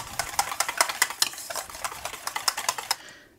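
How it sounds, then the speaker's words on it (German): Pepper and salt are stirred into a tortellini salad dressing in a bowl, making a quick, regular series of sharp clicking and tapping strokes up close that stop near the end. "Das Ganze dann schön einrühren."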